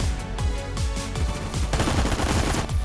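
Gunfire in the Phantom Forces video game: a rapid, evenly spaced run of automatic shots from an AK 109 rifle, loud and continuous with no voices.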